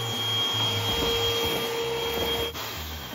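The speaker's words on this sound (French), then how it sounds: "L'aspirateur, c'est pour nettoyer le sol." A vacuum cleaner runs steadily while cleaning a floor at home, a continuous broadband whine with a constant hum, close and loud throughout, briefly dipping near the end.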